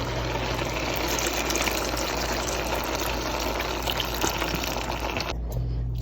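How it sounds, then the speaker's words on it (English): Chicken stock pours steadily into a pot of beans in a continuous gush for several seconds, then stops abruptly near the end. "Add a quart of chicken stock."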